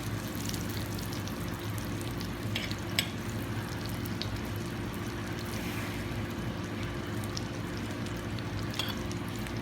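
Eggs fry in butter in a tagine pan, giving an even, continuous sizzle with faint crackles throughout, close by and without talk.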